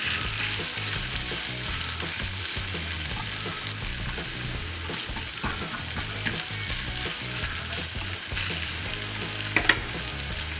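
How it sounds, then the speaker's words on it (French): A potato galette fries in hot oil at about 160 degrees in a pan, a steady dense sizzle that holds evenly throughout with a couple of sharper crackles near the end, no talking. "Une fois mon huile chaude aux environs de 160 degrés, je vais ajouter mes pommes de terre."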